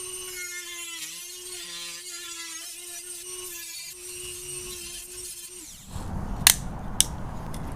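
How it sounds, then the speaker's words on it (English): A Dremel fitted with a plastic-cutting blade slices through plastic clips during a front bumper install on a 5th Gen 4Runner, giving a steady high whine for several seconds that stops, followed by brief sharp snaps. "We're just going to use our Dremel with a plastic blade to cut this."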